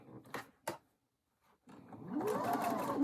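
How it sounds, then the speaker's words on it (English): Sewing machine stitching quilt block pieces for a nine patch block: a couple of soft handling clicks, a short pause, then the motor whirs up into steady, fast, close stitching. "And then I can take it to my sewing machine and stitch those."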